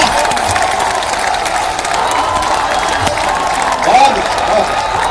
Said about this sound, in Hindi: दोनों हाथ उठा के तालियां बजाइए बच्चे के लिए